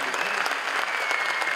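A live stage audience gives steady, dense applause for the singer, a full roomful of clapping that carries on through the whole moment without a break.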